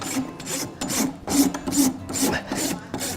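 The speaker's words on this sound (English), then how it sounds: "Right now I'm taking the edges off of the hoof wall, and then I'm going to smooth it out with my rasp here." A farrier's rasp works a horse's hoof wall in about seven close, rhythmic strokes, each a coarse scraping swipe with brief pauses between.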